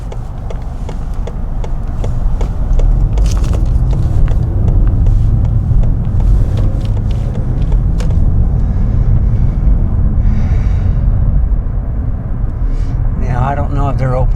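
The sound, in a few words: road traffic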